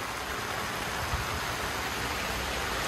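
Rain falls steadily outside, a dense, even hiss of drops that stays constant and fairly loud throughout with no talking.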